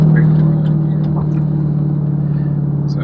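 A Dodge Challenger Demon engine holds a steady, loud low rumble while driving, nearly constant in pitch for about three seconds with no clear rise or fall, close up and without talk.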